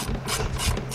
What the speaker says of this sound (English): So we're gonna use our same 10 millimeter setup. Go ahead, unscrew that